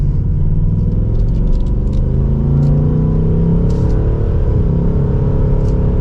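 A 2024 Ford Mustang GT Premium V8 accelerating in automatic drive, a loud, deep, steady engine rumble that rises smoothly in pitch as it builds speed, heard from inside the car with no talking.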